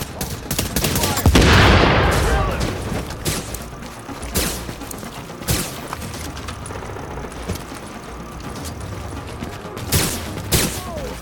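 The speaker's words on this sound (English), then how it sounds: "I'm shooting at him right now" Rapid bursts of automatic gunfire in the video game The Division, at a camp in the Queens Tunnel, with a dense fusillade early on followed by scattered sharp shots and a few more bursts near the end.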